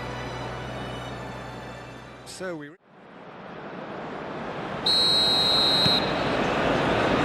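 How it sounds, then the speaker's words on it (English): A referee's whistle in the PES 21 football video game blows one steady, piercing blast of about a second to restart the match, over a constant roar of stadium crowd noise. "There's the whistle then to start the second half."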